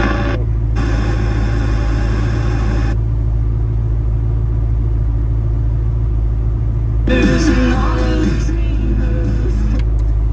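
A rebuilt fuel-injected 5.0 engine in a 1938 Ford Coupe idles with a loud, steady low rumble, holding even throughout with a brief rise in roughness near the end.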